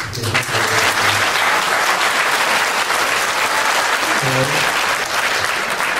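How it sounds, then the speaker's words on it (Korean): A short burst of clapping from a crowd at a Catholic community New Year gathering, steady and fairly loud throughout, with a few voices briefly audible underneath. "우리 박수로 어, 짧은 박수로 환영해 드리십시다"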